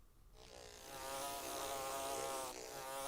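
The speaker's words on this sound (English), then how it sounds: "Does that have anything to do with the wasp flying around the room?" A wasp buzzes around a room, its thin, wavering drone rising in after a brief quiet moment and carrying on steadily, close and fairly loud, with no one talking over it.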